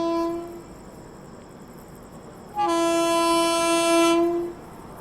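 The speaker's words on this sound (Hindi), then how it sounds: "ये आई भाई साहब फुल रफ्तार में" Vande Bharat Express on the Ayodhya Cantt–Anand Vihar Terminal run arrives at full speed, its horn sounding loud and close: a short blast, a pause, then a longer sustained blast that fades out.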